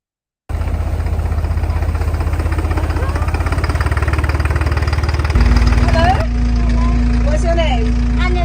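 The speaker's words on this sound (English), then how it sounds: "Driving the tractor." A tractor engine runs in a Sussex vineyard, idling in a steady, loud mechanical throb that shifts to a deeper, heavier note partway through, with faint voices in the background.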